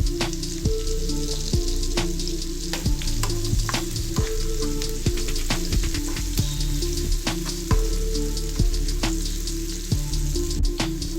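Onion pieces fry hard in a pan for a gongura and broad bean curry, giving a loud, dense sizzle full of rapid crackling pops and spatters, continuous and close with no talking.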